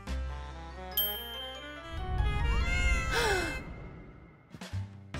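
A cat meows over a soft musical backing, a drawn-out wailing cry with a short chime before it.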